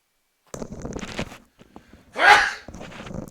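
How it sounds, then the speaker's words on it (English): A single loud sneeze bursts out midway, preceded by rustling and shuffling close to the microphone, with more rustling afterward. "I feel a sneeze."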